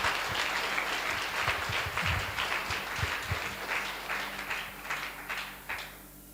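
A church congregation bursts into loud, sustained applause, dense clapping filling the room and slowly tapering toward the end.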